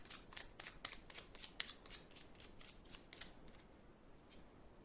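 Lenormand cards being shuffled up close, a quiet run of rapid riffling bursts in an even rhythm with no voice over it.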